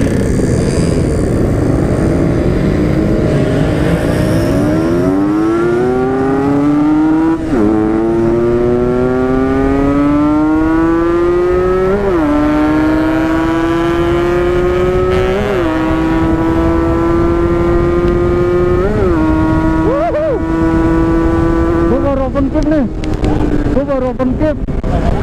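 A Yamaha RX King two-stroke motorcycle engine revs loud and close, climbing repeatedly through the gears with rising pitch and brief dips at each shift, sustained throughout.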